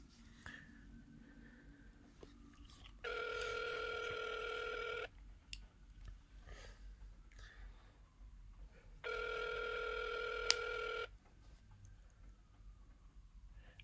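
Telephone ringback tone on an outgoing call, two long steady rings about six seconds apart, faint and even, with quiet background noise and soft clicks between.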